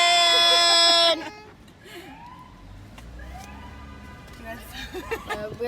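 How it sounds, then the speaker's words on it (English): A loud police siren wails in rising and falling sweeps for about a second, then cuts off, leaving quieter street noise with people talking nearby. "A real loud police car."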